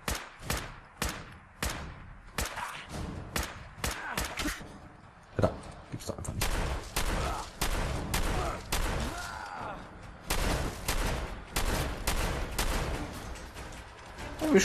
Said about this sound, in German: diese Schüsse hier macht.